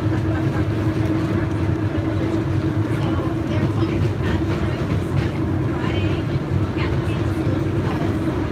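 A Colebrookdale Railroad passenger train ride on an autumn excursion, heard from inside the car as a steady, dense low rumble of wheels and carriage throughout, with faint voices mixed in.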